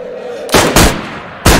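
Three loud, close shotgun blasts firing buckshot at dinosaurs, triceratops and raptors, in the DayZ video game: one sharp report, a second soon after, then a pause before a third.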